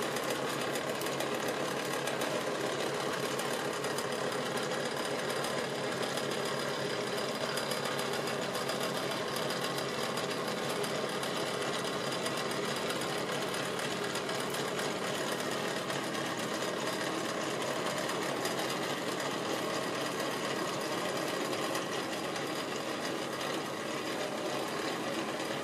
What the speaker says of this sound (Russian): мы начинаем собирать сахарную вату